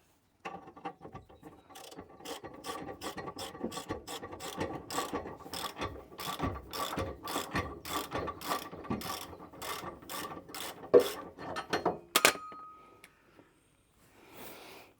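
A ratchet clicks in quick, steady strokes on a bumper carrier bolt of a Ford Mondeo Mk3 ST220, close and crisp, then ends in a short metallic scrape and clunk before quiet.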